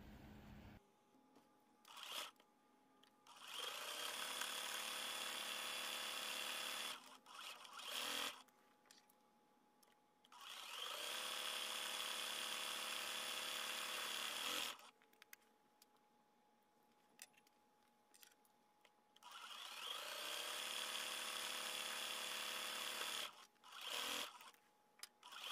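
A sewing machine stitches a quarter inch seam in three long, even whirring runs of several seconds each, close by. Short pauses with small handling clicks and rustles separate the runs.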